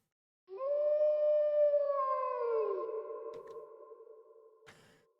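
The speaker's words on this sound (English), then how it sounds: "I can hear him, Foxy the pirate, howling from the depths of the canyon." A long, mournful howl from Foxy the pirate echoing out of a canyon in a video game, one sustained wavering tone that slides downward and fades, with a sharp click near the end.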